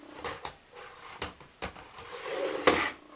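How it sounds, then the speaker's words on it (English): Wooden drawers being slid and fitted into a piece of furniture, with several knocks, scrapes and a sharper clack near the end, close and fairly quiet. "Let's see how these drawers go in here now."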